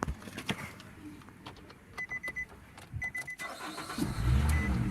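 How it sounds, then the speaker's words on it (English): A Nissan Rogue with a damaged electrical system is started: quiet clicks, then repeated rhythmic chime-like beeps while the starter cranks in bursts, until the engine catches and settles into a low idle near the end. "Wonder if the car will start with that removed."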